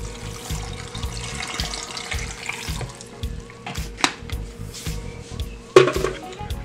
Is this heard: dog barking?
no